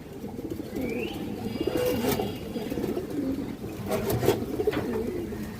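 Pigeons of an old line, a breeding pair with silver markings, coo softly and repeatedly at close range, with faint chirps over a steady low background.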